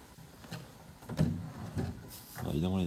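Drawers in an empty luxury villa slide open and shut in a few soft wooden scrapes and knocks, close by. Someone speaks quietly in between.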